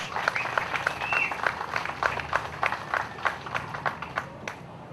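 An outdoor crowd of Palauans applauds at a 2011 Independence Day fair. The clapping is distant and loosely rhythmic, with repeated sharp claps over a steady background.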